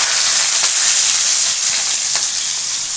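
Chopped onion frying in hot oil with black cumin (kalo jeere) in a kadai, a loud, close, continuous hiss and crackle of sizzling with a couple of faint stirring ticks, no talk.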